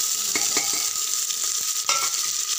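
Cumin seeds fry in hot oil in a pan for aloo matar sabji, a constant crackling sizzle broken by several sharp spoon taps and scrapes against the pan.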